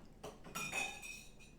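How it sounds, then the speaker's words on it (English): Glasses clink together in a toast over beers such as a Brau Brothers Ringneck, with several bright, ringing taps close by in quick succession and no talk over them. "Clinking The glasses."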